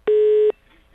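A single telephone tone, held steady for about half a second and then cut off, sounds clearly on its own as a prank call is placed.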